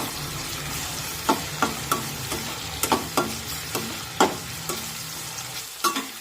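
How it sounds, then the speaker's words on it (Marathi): Finely chopped tomato cooking in a pan for a mixed vegetable dish, a steady sizzle broken by sharp clinks and scrapes of a spoon stirring at irregular intervals, close up. "आता यामध्ये एक बारीक कट करून घेतलेला टोमॅटो टाकूया आणि टोमॅटो सुद्धा छानपैकी मऊ शिजून घ्यायचा आहे"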